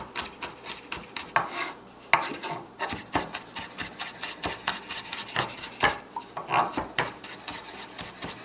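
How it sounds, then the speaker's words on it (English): Peeled garlic cloves being dropped into a bowl with other salsa ingredients, giving a series of light irregular knocks, taps and scrapes close up, with no talking. "This is where I put the garlic in the bowl with the other things."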